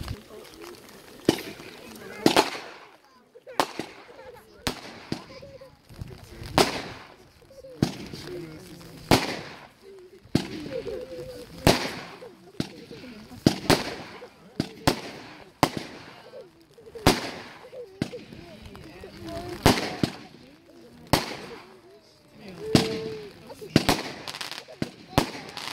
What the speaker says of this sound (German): Eine Multicolor-Batterie mit Fächereffekt.